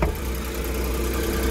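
A Lexus ES300h hybrid idles at low rpm with its air conditioning running, giving a steady, even engine hum throughout with no revving.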